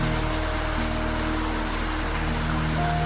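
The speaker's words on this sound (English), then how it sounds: "The rain drums on" Steady rain drums on a train window at night during a Pacific coastal storm, a dense, even patter over the low rumble of the moving carriage, with no voices.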